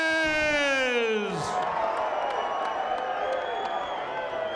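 A boxing crowd roars for Mike Alvarez, a light heavyweight from Reading, Pennsylvania, at a ballroom boxing event. A drawn-out ring announcer's voice rises and fades into a sustained wall of cheering and applause.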